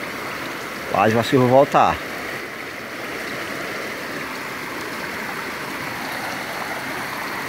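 Steady rushing water of an outdoor stream runs as a broad, continuous wash, close and fairly loud; someone speaks briefly near the start before the flow carries on alone.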